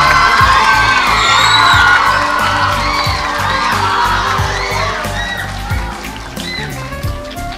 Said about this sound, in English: Again, a big round of applause for that group.